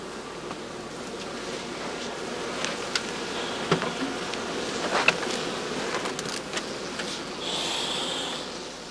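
Honey bees buzz in a dense, steady hum around a straw skep hive, with individual bees passing close by now and then.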